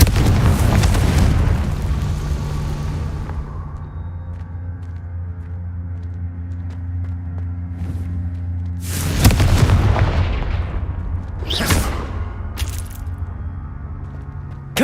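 Repeated Confringo blasting-spell explosions in the video game Hogwarts Legacy: an opening rumbling blast, then a held low drone, a sharp heavy boom midway and several cracking bursts near the end.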